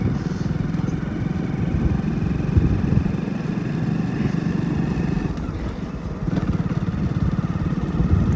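A motorcycle engine drones on a road known for accidents, a steady mid-pitched rumble that holds throughout with slight swells, fairly close and with no speech over it.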